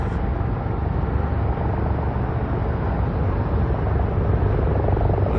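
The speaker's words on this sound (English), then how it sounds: "you can hear all these helicopters coming" Tour helicopters fly over Las Vegas near Allegiant Stadium, a steady broad rotor and engine roar that holds at a constant, fairly loud level throughout with no talk.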